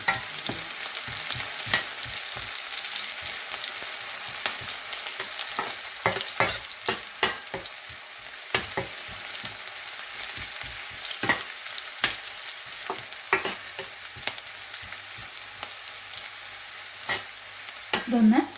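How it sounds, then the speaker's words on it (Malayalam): Onion and green chillies frying for a Kerala cashew curry, a constant close sizzle broken by repeated scraping spatula strokes against the pan, with no voices. "നമുക്ക് നന്നായിട്ടൊന്ന് മിക്സ് ചെയ്ത് കൊടുക്കാം."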